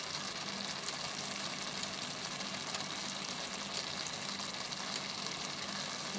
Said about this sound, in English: So I'm gonna add the saltfish now because the onion and the tomatoes are cooked.